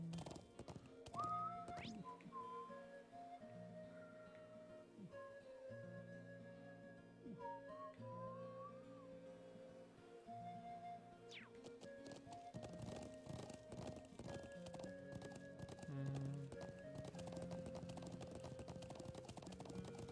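Horse hooves galloping in the video game The Legend of Heroes: Trails of Cold Steel, a rhythmic clip-clop over game music and sound effects that grows busier and denser toward the end.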